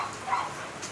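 A bulldog playing outside in the rain lets out one brief, muffled bark or yip against a soft background of falling rain.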